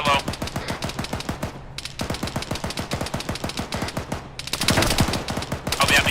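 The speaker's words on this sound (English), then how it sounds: "Oh yeah, he just shot at me." Sustained enemy PK machine gun fire in ArmA 3, dense rapid bursts of close, loud shots running throughout with a brief lull, with radio voices faintly underneath.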